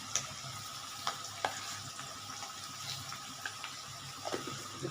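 Potatoes and onions sizzle steadily in a pan as sour curd is stirred in, with occasional sharp clinks and scrapes of the spoon over the frying.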